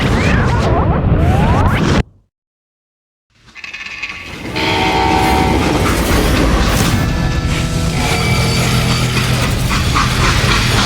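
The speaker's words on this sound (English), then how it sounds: "how'd they stop this train in the first place?" Loud rumbling freight train in the video game Call of Juarez: Gunslinger, with a sharp break into silence, then a rising, steady roar of a locomotive with tonal whistle-like hums, no talking.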